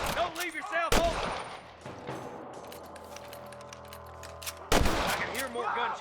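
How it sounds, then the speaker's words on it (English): Gunfire in the Red Dead Redemption video game: sharp shots crack out near the start and again around the middle, with scattered distant pops and faint game voices in between. "I can hear more gunshots."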